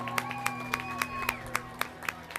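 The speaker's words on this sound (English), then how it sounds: "how about a round of applause?" A street-parade crowd at an Irish parade in Tinley Park claps in scattered, light rhythmic beats against a steady background hum and a faint tonal whine, fairly distant and thin.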